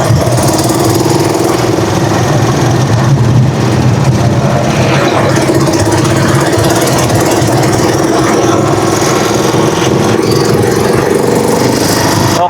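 A Rusi Chariot 175 engine idles steadily and loudly up close, with a continuous low rumbling drone and no gaps or changes in speed.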